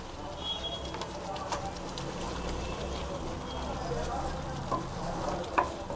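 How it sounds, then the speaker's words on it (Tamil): Mudakathan herbal chutney ingredients frying in oil, a faint steady sizzle with occasional stirring clinks and a soft bird call in the background. "நல்லா ஃப்ரை பண்ணிக்கலாம்."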